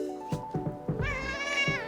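A pet cat meows up close, giving a quick run of short clipped mews followed by one longer drawn-out, wavering meow and then a brief final chirp, with no one talking.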